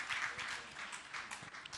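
Audience applause for a young celibate brother at a Jain monk's question-and-answer gathering, a dense steady patter of many hands clapping at moderate volume with no voices.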